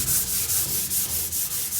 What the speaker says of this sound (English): Scrub it.